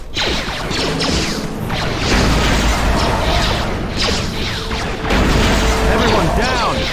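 Ion grenades go off in the game Knights of the Old Republic II, a dense run of loud bursts, crackling energy and whooshes layered over game sounds, sustained and close, with a voice talking over parts of it.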